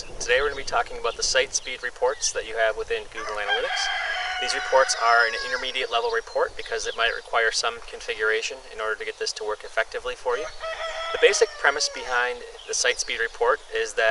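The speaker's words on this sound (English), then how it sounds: "there's a rooster in the background." A rooster crows repeatedly in the background while someone talks steadily in the foreground, the crowing faint and drawn out beneath the voice.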